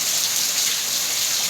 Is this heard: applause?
no